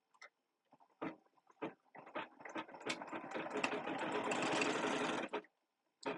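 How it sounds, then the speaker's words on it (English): A sewing machine stitches a circle zipper pouch, starting and stopping in short bursts before running in one steady whirring stretch of a couple of seconds, close and clear, then halting. "I'm going to start and stop the machine so you guys can see it. So it's going to start stitching."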